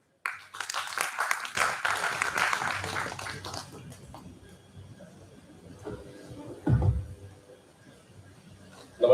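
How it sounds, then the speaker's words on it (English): Audience applause welcoming an invited guest at a national seminar, a dense wash of clapping in the opening seconds that thins and fades, with a few later rustles and a brief bump of noise near the end. "please welcome Sri R.V.N. Vishweswar with a warm round of applause"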